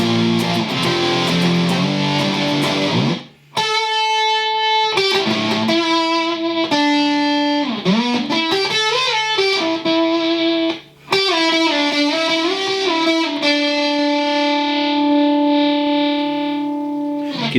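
Fuzz pedal distortion on the silicon side setting, sustained distorted guitar notes and bends ringing out before cutting off sharply as the gate closes, with brief silences between phrases.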